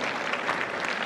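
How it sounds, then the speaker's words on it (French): A brief burst of dense, steady audience applause at a live volleyball event broadcast, many hands clapping loudly without pause. "On peut l'applaudir très fort."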